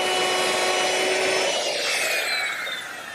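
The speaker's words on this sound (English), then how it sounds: "Now there's one more hole to drill in this piece, right in the center." A power drill bores a center hole into a wooden wagon part, a loud grinding whine with a steady tone that fades slightly as it finishes.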